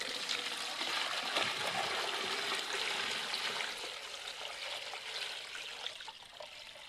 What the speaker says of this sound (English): Okay, so I'm going to add about 2 gallons of water.